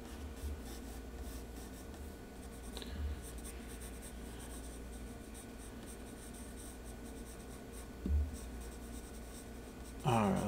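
A pencil sketches a drawing on paper, close and quiet, with a steady scratchy scribble of strokes running throughout and a few light knocks and handling sounds.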